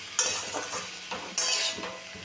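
Fenugreek greens with fried potato and eggplant stirred in a hot pan, close rhythmic spatula scrapes and clinks over a continuous sizzle, two sharper metallic knocks.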